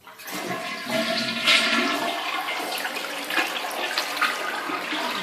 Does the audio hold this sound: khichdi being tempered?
no